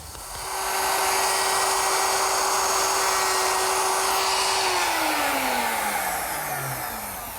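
Power tool cutting a stopped dado into the bottom of a wooden baluster: a steady high-pitched whine holds for several seconds, then winds down as the cut ends and the tool slows.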